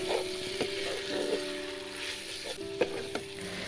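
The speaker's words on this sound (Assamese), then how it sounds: "মছলাখিনি ভজা হৈ গৈছে প্ৰায় আৰু এতিয়া মই মাংসখিনি দি দিছোঁ" Chicken meat sizzling in hot oil with fried spices for an Assamese black pepper local chicken curry, a steady close frying hiss broken by a few clinks and stirring knocks.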